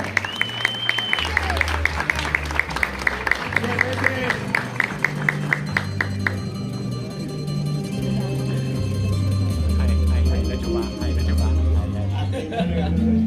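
Audience applause at a school graduation ceremony for the best graduate, clapping steady and loud throughout with crowd murmur, while music plays underneath.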